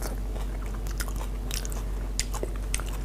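Close-up crunchy chewing of dry melon pulp left from a multifunction juicer, steady bites and crisp crackles over a constant low hum, with no talking.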